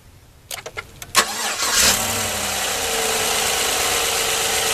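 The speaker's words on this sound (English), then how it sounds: "We're going to start the truck up." A Chevy truck engine cranks with a few rapid starter bursts, catches with a loud rise and settles into a steady close idle, with no talking.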